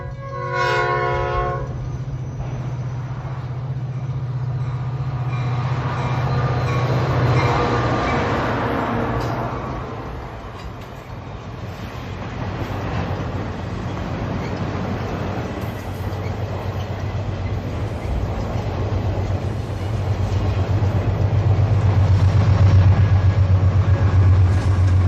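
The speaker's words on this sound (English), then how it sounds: "Rolling through the switch at Orange, Amtrak San Diegan is headed for Santa Ana." The Amtrak San Diegan passenger train rolls through a switch at Orange, California, sounding its horn at the start, then a loud, steady rumble and clatter of wheels on rail that swells again near the end.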